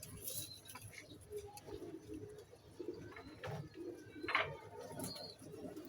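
A silver pigeon sitting on its eggs gives soft, low cooing calls under steady background noise, with a few faint chirps and brief higher sounds from nearby.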